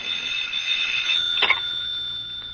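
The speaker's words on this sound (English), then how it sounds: "And then suddenly the phone was ringing." An electronic telephone rings with a steady, high, warbling tone, continuous and fairly clear against a quiet background.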